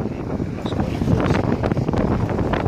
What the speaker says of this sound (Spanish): Mucho viento esta tarde